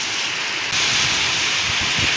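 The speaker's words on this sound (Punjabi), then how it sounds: "ਬਾਰਿਸ਼ ਸਟਾਰਟ ਹੋ ਗਈ ਹੈ ਜੀ ਫੁੱਲ ਤੇਜ਼ ਹੋ ਰਹੀ ਬਾਰਿਸ਼" Heavy rain pours down in a dense, steady hiss that grows slightly louder partway through.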